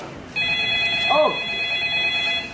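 A telephone rings steadily in a stage show setting, its bright electronic trill loud and continuous, while a voice briefly exclaims over it.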